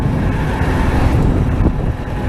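Sur Ron Light Bee electric dirt bike fitted with a Luna belt kit and 2020 X controller, ridden fast on a road with a steady loud rush of wind buffeting the microphone and no pause throughout.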